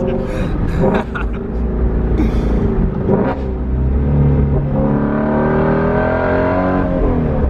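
Shelby GT350R engine revving up to around 5,500 RPM, a loud close roar climbing steadily in pitch and holding high, with a person speaking briefly over it.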